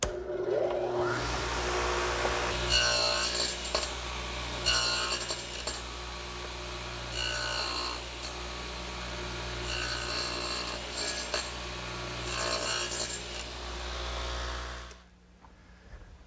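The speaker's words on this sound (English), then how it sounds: "I've raised the radial arm saw and installed a higher fence." A radial arm saw nibbles away the shoulder of a wooden tenon in repeated rasping passes, bursts of cutting noise that come and go over a steady motor hum, close and fairly loud.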